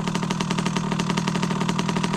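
A trial motorcycle's engine runs steadily at a fast, even idle-like throb, close and fairly loud, with a regular pulsing rhythm throughout and no talk over it.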